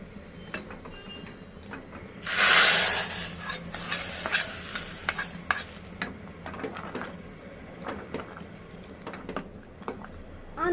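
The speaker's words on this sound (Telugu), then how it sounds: "ఇప్పుడు ఈ పోపు అందులో వేసాము మంచిగా కలబెట్టాను" Tempering stirred into a cabbage and chana dal curry in a pan, a burst of loud sizzling early on followed by repeated scraping and stirring clicks of a spoon against the pan.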